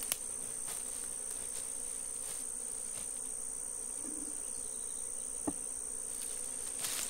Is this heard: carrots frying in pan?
no